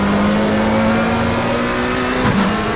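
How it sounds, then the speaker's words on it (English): An onboard McLaren race car engine at Kyalami in a sim racing game holds a loud, steady high-pitched drone with a smooth rising pitch, then briefly dips as if shifting or lifting, running close and continuous throughout with no talk. "we'll try and go back on board with Adam Foster's McLaren"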